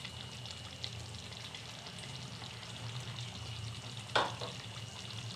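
Tomato puree is poured into a hot pan for chicken gravy and sizzles softly and steadily at a low level, with one brief louder burst near the end.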